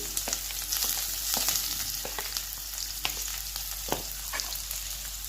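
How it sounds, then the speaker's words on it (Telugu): Onion and green chillies frying in a pan for a sorghum-flour soup, producing a steady close sizzle punctuated by sharp spatula taps and scrapes, with no speech. "ఇది కొంచెం ఫ్రై చేసుకోవాలని ఆనియన్ పచ్చిమిర్చి వేగిన తర్వాత"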